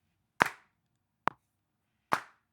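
Three sharp single hand claps marking beats during a music notation lesson, evenly spaced and crisp, close and isolated against near silence.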